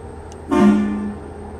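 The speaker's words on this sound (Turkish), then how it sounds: "Bu korna dolmuşların sesine çok benziyor Ankara'daki." A single loud blast from a Ford Cargo 2842 truck horn in Euro Truck Simulator, brief and slightly rising, then fading into quiet background hum.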